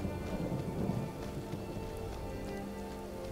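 Steady rain with low rolling thunder in the video game Skyrim, a continuous wash of downpour with a deeper rumble swelling early on, no voices.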